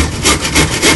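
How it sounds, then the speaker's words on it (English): Surform rasp shaping walnut for a carved carp, three close, loud rhythmic rasping strokes across the wood in quick succession. "I'm using what's called a surform,"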